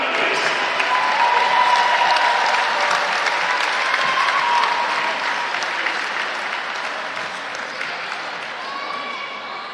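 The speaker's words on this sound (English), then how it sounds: "Give us a hand, Waitaha, please." A crowd at the Under-17 national basketball grand final applauds the Waitaha team, steady clapping with some cheering, heard under an announcer's voice and slowly fading.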